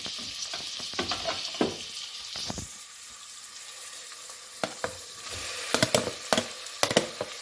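Tomato tipped into a hot pan for a Coimbatore lunch dish, a steady close sizzle of frying with irregular scrapes and knocks of stirring, louder bursts toward the end; no speech.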